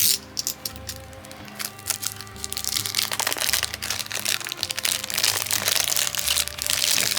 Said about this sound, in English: Kind of score the cellophane along where the seam is at. Cut it down the sides here.